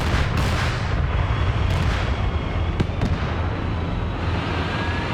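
Rockets and heavy launcher fire in a US versus Russia tank and IFV battle game: a dense, roaring barrage with sharp bursts and cracks rising from a steady rumble, loud throughout with no pauses.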